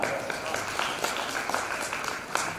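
Audience applause during a sermon at a Jain temple in Damoh, a dense steady clapping of many hands lasting throughout, fairly close and even.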